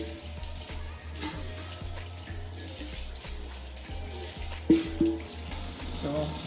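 Oxtail pieces are rinsed under a running kitchen tap: a steady hiss of water with soft splashes and a few knocks and clunks of meat and container.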